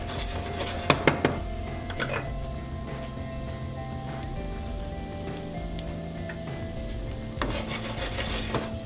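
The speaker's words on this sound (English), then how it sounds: "Let's add our delicious garlic to the mix there." Garlic sizzles in a hot pan over medium-high heat for a zucchini and squash sauté: a steady, close hiss throughout, with occasional clinks and scrapes of a utensil stirring against the pan.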